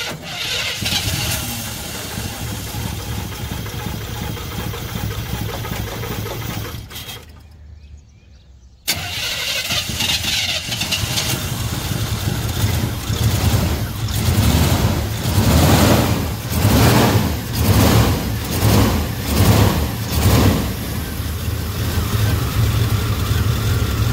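A car engine cranks and fires after engine repair work, then settles into a loud, close, steady run with rhythmic surges as it revs, following a brief quiet gap.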